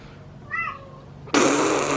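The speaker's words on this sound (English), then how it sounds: "He was meowing right now." A house cat gives one short meow, a brief rising cry near the middle, close and fairly clear over a quiet room, and a sudden steady hiss of broadband noise then takes over.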